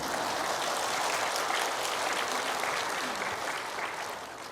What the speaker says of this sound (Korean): 내가 이야기하면 꼭 어디 가면 박수 쳐주던데